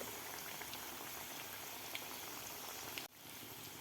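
Puffed rice pakoras deep-fry in hot oil over a medium flame, giving a steady, dense bubbling hiss that runs without a break and cuts out abruptly near the end before resuming.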